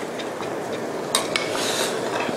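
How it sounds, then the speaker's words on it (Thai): A spoon stirs fish maw soup in a pot while dissolved tapioca starch is poured in, giving a soft continuous swishing with a few light scrapes and clinks against the pot. "ระหว่างที่ใส่ก็จะต้องคอยคนด้วยนะคะไม่งั้นแป้งมันเนี่ยจะจับตัวเป็นก้อนนะคะ"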